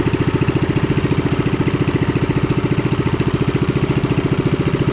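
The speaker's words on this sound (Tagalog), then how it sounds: "Mabilis ang ating makina." A small engine chugs steadily with a fast, regular pulsing beat, close and fairly loud, running alone without any voices.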